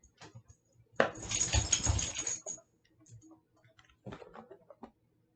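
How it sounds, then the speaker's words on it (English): A puppy whimpers and whines in short, soft bursts separated by quiet pauses, with a louder rustling scuffle in the middle, heard close up. "See, he's my puppy."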